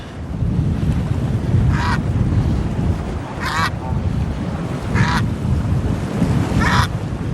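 Geese honk in short bursts at intervals over steady wind and surf noise at Port Stanley, Ontario, fairly close by, with no one talking.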